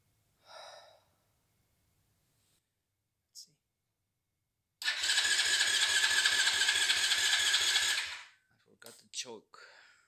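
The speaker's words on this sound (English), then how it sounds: "I have rigged the braking system here so that I could maybe start the bike" A restored 110cc pocket bike's engine catches and runs with a loud, rough, rapid putter for about three seconds before cutting out, with a few short breathy noises and small knocks before and after.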